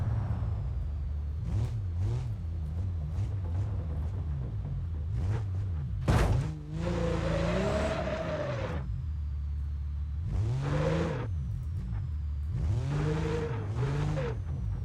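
A car engine in the BeamNG Drive driving game drones steadily, its revs climbing and falling through gear changes, with a sharp knock midway. No speech is heard.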